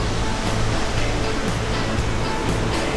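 Waves break onto a rocky coral beach at Pantai Ngrawah, Yogyakarta, as a dense, loud, continuous roar of surf with a few slight swells and no speech.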